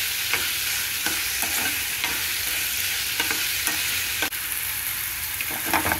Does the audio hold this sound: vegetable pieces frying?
yes